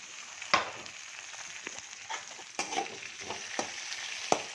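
Chopped tomatoes sauté in a pan for chutney, giving a steady soft sizzle broken by several sharp scrapes and stirring knocks of a spoon against the pan, close and alone with no talk.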